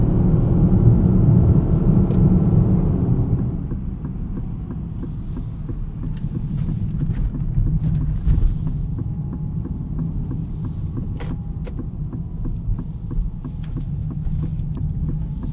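A 2024 Aston Martin DBX 707 drives on the road, its low engine drone and tyre rumble steady and close from inside the cabin, louder at first, then settling to a lower, even hum.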